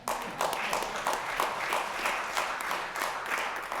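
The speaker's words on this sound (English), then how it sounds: "Y'all should clap for that." An audience applauding at a public address, a steady wash of many hands clapping together, moderately loud and continuous throughout.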